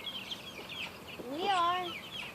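A quail calls on a farm, a single clear rising call standing out over faint background chirps and clucks.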